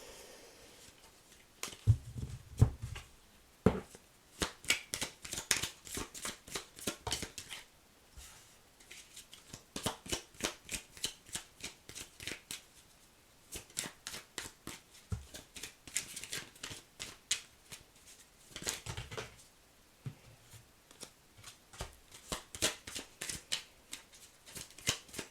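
Tarot cards shuffled by hand during a Gemini reading, heard as quick, crisp runs of close flicking clicks in repeated bursts with short pauses between, and no talking.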